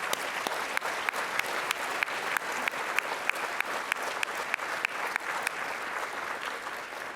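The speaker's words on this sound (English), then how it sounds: "Let's give them a round of applause." Audience applauding at a university faculty-staff awards ceremony, steady sustained clapping from a large crowd with sharp individual claps standing out, continuous and fairly loud throughout.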